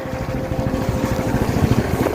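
A motorcycle ridden through rain and heavy snowfall on a mountain pass in Arunachal Pradesh gives a steady, loud, close engine rumble with low throbbing pulses and wind-like hiss throughout.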